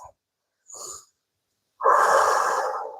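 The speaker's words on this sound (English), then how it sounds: "Breathing. Cool, calm and controlled." A person breathing deeply and under control during a yoga-inspired calisthenics exercise, close to the mic: a short breath, a pause, then a longer, loud, airy exhale that fades out gradually.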